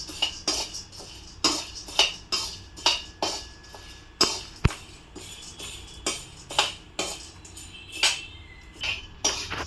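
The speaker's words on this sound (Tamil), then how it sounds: "இப்போ அடுத்தது உடச்ச கடலை வேர்க்கடலை இதை வறுக்கிறேன்" Split chickpeas and peanuts dry-roasting in a pan, stirred with a utensil that gives sharp, rhythmic scraping and clinking strokes roughly every half second, close and clear with no talking.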